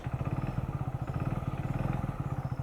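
A Hero Splendor motorcycle idles close by with a steady, even putter of rhythmic low pulses and a light mechanical clatter, and nobody talks over it.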